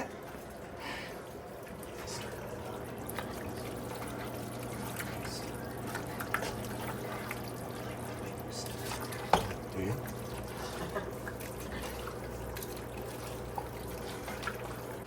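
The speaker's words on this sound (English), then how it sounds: "now we're gonna pour the pasta in the pan" Cooked pasta slides and slops from a pot into a baking pan for a pasta bake, a soft wet pouring and squelching with occasional clunks and light knocks, heard close under quiet talk.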